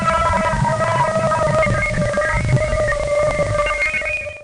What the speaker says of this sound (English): a space probe was doing a mission around Jupiter and made a flyby by Ganymede, a moon of Jupiter, and recorded some audio of the moon